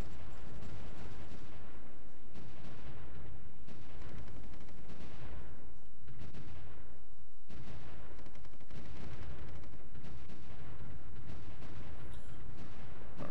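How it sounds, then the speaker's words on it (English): Continuous heavy artillery and gunfire from the World War One strategy game Supreme Ruler: The Great War, dense overlapping booms and crackling volleys that hold a loud, unbroken barrage for the whole stretch. "Our artillery is already softening up these guys for us, which is perfect."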